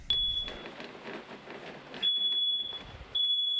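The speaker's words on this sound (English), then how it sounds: "he realized it was his carbon monoxide detector" A household carbon monoxide detector alarm sounding in a home, a loud, high, piercing electronic tone repeating in long beeps with short gaps.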